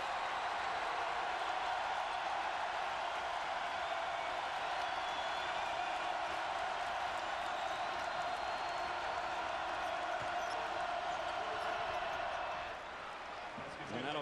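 Home crowd roaring continuously inside the arena at a Kansas Jayhawks basketball game against Kansas State, a dense sustained wash of cheering that eases slightly near the end, with a commentator talking over it.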